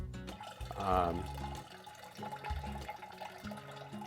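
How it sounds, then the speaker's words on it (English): Wine, filtered water and vinegar mother are poured into a container for homemade wine vinegar, making a close, gurgling splash that swells early and then trails into a softer liquid trickle. "And I'm just going to pour it."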